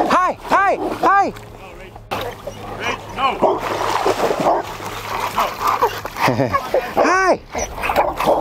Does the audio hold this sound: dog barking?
yes